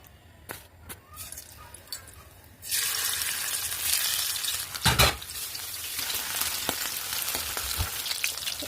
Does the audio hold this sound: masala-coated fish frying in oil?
yes